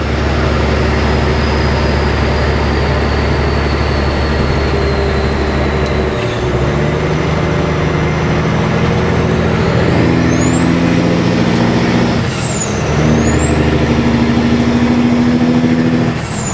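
A big truck's engine drones loud and steady under throttle on the road, with a deep rumble that shifts pitch partway through and a rising whine overhead.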